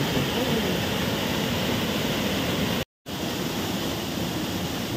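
Ranibuda waterfall in Sundargarh roars with rushing water, a loud, steady, dense wash that fills the whole clip. It cuts out for a brief gap near the three-second mark and then returns unchanged.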